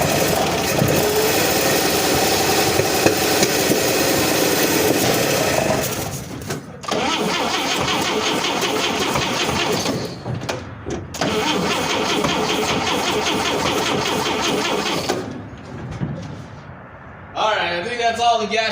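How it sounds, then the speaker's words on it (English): A 1955 Chevrolet 3200 truck engine cranks repeatedly in long loud stretches, with sharp backfire pops, brief pauses between attempts and a rough catch near the end, close by. "Now, you heard some of that backfire."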